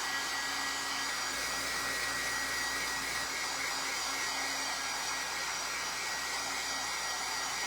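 A hair dryer blowing steadily on a Mod Podge-coated print, a constant close whooshing drone with no pauses or voices.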